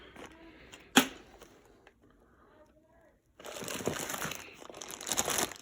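Ziploc plastic bags rustle and crinkle nearby, with a sharp crackle early on, a quiet lull, then sustained louder crinkling as the bags are handled.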